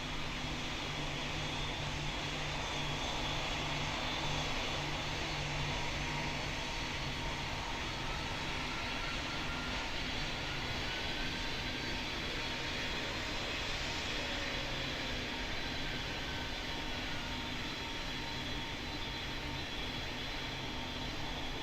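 An airliner comes in to land in Pilot Training Flight Simulator. Its engine drones loudly and evenly, a continuous roar with no break for more than twenty seconds and no voices over it.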